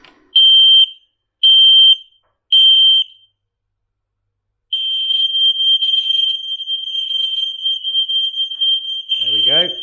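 Three short, piercing beeps from wirelessly interlinked smoke alarms, then a long continuous shrill alarm tone that sounds close and loud, ending with a brief burst of voices.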